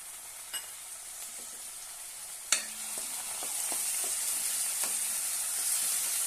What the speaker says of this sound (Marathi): एक चमच आलं लसणाची पेस्ट घालूया छानपैकी परतून घेऊया